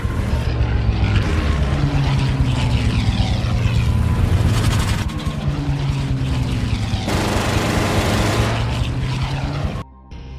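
Propeller-driven fighter planes in an aerial chase from the film Dunkirk, with loud droning engines rising and falling in pitch as they pass close, sustained throughout before cutting off near the end.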